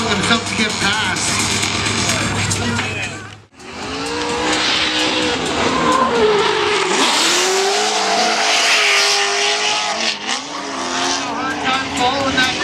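Drift car tires squealing and losing traction in a competition, with a sustained, loud screech over a roaring engine, a sudden brief drop, then continued howling skids while a commentator talks.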